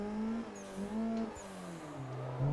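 A Formula Drift car engine in a drifting video game revs and holds high tones, rising and falling in pitch between shifts, loud and close and alone without voices.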